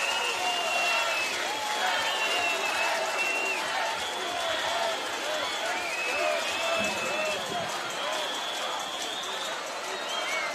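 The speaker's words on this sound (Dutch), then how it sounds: "Geef hem één groot applaus." Steady audience applause and cheering fills a hall at a Maastricht carnival-style event, a dense close wash of clapping lasting throughout, with whistles and shouted voices mixed in.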